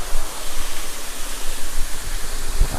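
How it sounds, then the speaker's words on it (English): A large waterfall in a Japanese garden in Nagoya roars steadily up close, a dense, even broadband rush of falling water with no pauses. "eventually explores into a gigantic waterfall"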